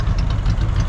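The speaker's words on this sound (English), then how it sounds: "But listen to the exhaust." An El Camino's engine idles roughly with a loud, close exhaust rumble, steady and throbbing with no talk over it.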